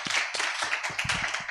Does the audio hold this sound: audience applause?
yes